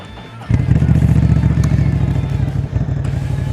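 A Triumph Scram 1100 Sport Pro motorcycle engine cranks and fires after a short pause, settling into a loud, steady, close-up idle with a deep rumble that continues to the end.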